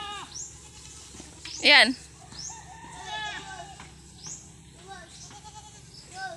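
Goats on a Filipino farm bleat in short calls around people talking, with one loud, close bleat standing out briefly against quieter background calls.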